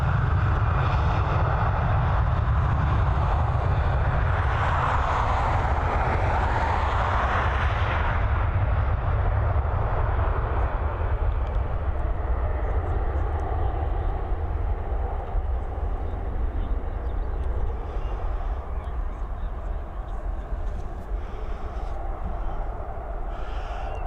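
An Airbus A320 jet airliner takes off at Dublin Airport with a loud, sustained engine roar that swells early on and then holds steady as a broad rumble for the rest of the stretch.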